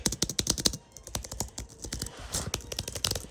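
A Logitech MX Keys for Mac keyboard with scissor-type keys clicks in a quick, steady run of close, crisp key taps, with a brief pause partway through before the typing resumes.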